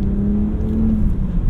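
A 2008 BMW 328i engine pulls hard under full throttle, a steady, loud mechanical drone with a rising whir that fills the cabin, with no talking over it.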